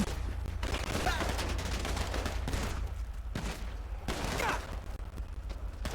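Gunfire in a video game rings out in loud rapid bursts of automatic shots that come and go in waves, with no talking over them.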